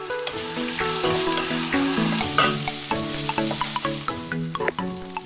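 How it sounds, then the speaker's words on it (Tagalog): Guanciale frying in a pan for rigatoni all'amatriciana, a steady close sizzle with crackling pops throughout, no voices. "Prituin lang natin ang guanciale hanggang sa maging crunchy ito."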